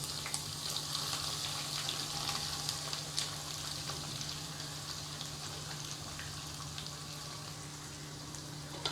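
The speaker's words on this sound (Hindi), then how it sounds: "और प्याज को गोल्डन होने तक पका लेंगे।" Four sliced onions fry in oil in a pan while kheema biryani is being cooked, giving a steady, moderately quiet sizzle with scattered small pops throughout.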